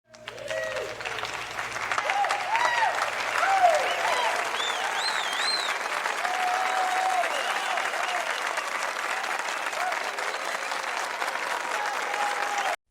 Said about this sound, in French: Vous méritez tous ces applaudissements.